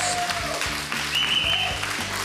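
Studio audience applause at a televised karaoke competition, a steady wash of clapping lasting a couple of seconds, moderately loud with faint tonal sounds underneath.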